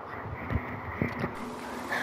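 An electric fan runs with a constant airy whir and low hum, steady and fairly faint, with a few soft bumps in the background.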